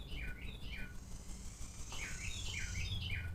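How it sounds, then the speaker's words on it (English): Outdoors, a bird sings repeated short, bright chirping phrases at moderate distance over a low rumbling background, with no one talking. "And there's that bird I mentioned."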